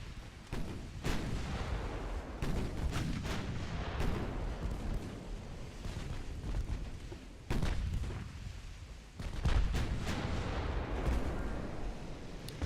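Warship guns boom in the naval combat game Ultimate Admiral Dreadnoughts, heavy shots fired from the ship's side against a light cruiser. Repeated loud, close blasts come in irregular clusters, each with a long rumbling tail over continuous battle noise.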